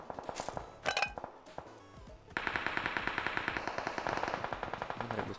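Rapid automatic gunfire from a shooting video game, with a short burst and then a dense, steady rattle of repeated shots that stays loud and close to the end, and no talk over it.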